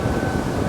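A Boston Whaler 220 Dauntless boat under way at speed, a loud dense roar of engine and rushing water and wind, steady and close for a brief moment.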